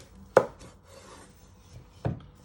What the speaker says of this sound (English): once you have peeled your parsnips, you want to chop them down the middle